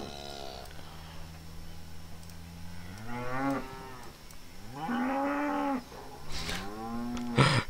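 Cattle in the farming video game 1849 moo repeatedly, several long drawn-out lowing calls overlapping in a clear, steady game soundscape with no speech.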